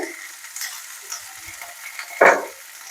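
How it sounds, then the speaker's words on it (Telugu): Okra frying in a few spoonfuls of oil in a pan, a soft steady sizzle with light stirring scrapes and one louder burst of crackle near the end, no talking. "ఇప్పుడు బెండకాయలు వేపుకుందామండి బెండకాయలు వేసుకొని కొద్దిగా ఆయిల్ ఒక రెండు మూడు స్పూన్లు వేసుకుందాం"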